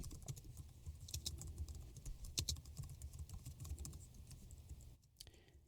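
Rapid, steady clatter of keys on a computer keyboard, close and continuous, over a low background hum.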